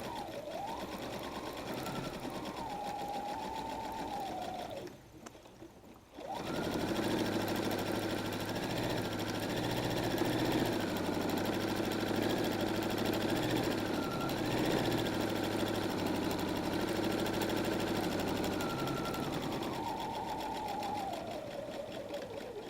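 A sewing machine stitches a messenger bag at a 2.5 stitch length, a steady mechanical whir that pauses briefly for a backstitch, then runs again in a long even stretch.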